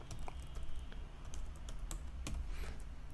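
Someone typing a Linux install command on a computer keyboard, with quick, irregular key clicks and a few sharper strokes, close and fairly quiet, with no talking.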